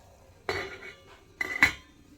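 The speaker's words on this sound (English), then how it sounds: "we're just going to pop a lid on and leave it simmering for about 5 minutes" A lid put onto a simmering pot of lilac syrup, two close metallic clanks and rattles about a second apart, then quiet, with no voices.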